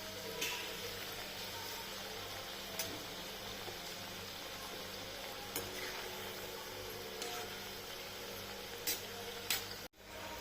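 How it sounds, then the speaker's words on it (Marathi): Coriander fritters (kothimbir vadi) deep-frying in hot oil give a steady, close sizzle that runs throughout, with a few brief clinks of a utensil and a short drop-out near the end. "तर बघा अशा प्रकारे तळून घेत आहे"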